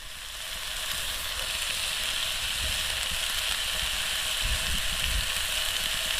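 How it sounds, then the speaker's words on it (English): Bacon sizzles and crackles in a hot frying pan, a steady, close hiss of popping fat that runs continuously from start to finish. "Listen to that bacon sizzle."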